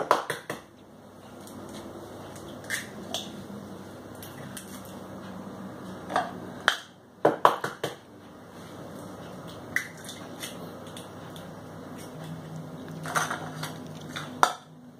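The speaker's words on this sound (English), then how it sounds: "We break the eggs." Eggs being cracked for muffin batter in a quiet kitchen, with a few sharp close taps and cracks scattered among soft wet squishing and faint clinks, no talk.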